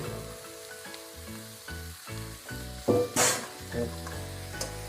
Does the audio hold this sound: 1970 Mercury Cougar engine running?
no